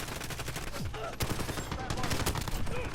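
Rapid, continuous submachine gun fire from Call of Duty: Modern Warfare, loud sustained bursts of shots with game effects layered over the whole stretch, no voices.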